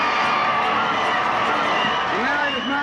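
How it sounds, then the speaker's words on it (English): A large crowd cheers, whoops and applauds for President Kennedy on a street, a dense continuous roar of voices and clapping with shouts rising out of it. "You hear the crowd applauding."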